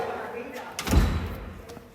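A door is worked and slammed shut with a single heavy thud near the middle, close by, between stretches of quieter room noise.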